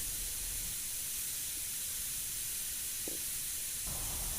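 Yellow paint hisses from a spray gun onto a Killer Klown figure's nose, a steady faint airy spray with a few short bursts.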